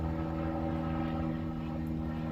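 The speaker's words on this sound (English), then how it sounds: "Wait for the airplane to pass." Steady drone of an airplane passing overhead above a fall garden, a continuous low engine hum at moderate distance holding even loudness throughout with no talk.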